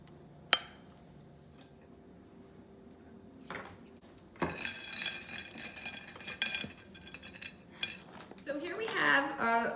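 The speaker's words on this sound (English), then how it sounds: "You can scoop it out with a tablespoon. You can put some in a bowl." A tablespoon scooping homemade garlic hummus into a bowl, with scattered metal-on-ceramic clinks and scrapes, a sharp tap early, then busier scraping that builds toward the end, close and clear.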